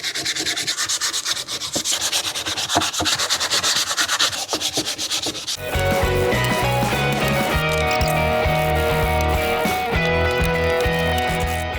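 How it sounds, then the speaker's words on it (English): Hand sanding of pallet wood with 120-grit sandpaper, a steady rhythmic rubbing and scraping close up that runs continuously and grows denser and louder partway through. "Now we'll do some touch-up sanding with some 120."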